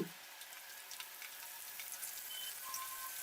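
Garlic cloves, mustard seeds and cumin sizzle in hot oil in a kadai for a dal and amaranth leaves dish, giving a soft, steady crackle with faint pops and no talking.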